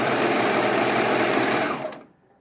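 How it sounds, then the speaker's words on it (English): A sewing machine runs a steady, close, fast whir while stitching a seam on a t-shirt piece, right sides together. It lasts about two seconds and then stops abruptly. "So I'm going to do a quick seam on here with right sides together."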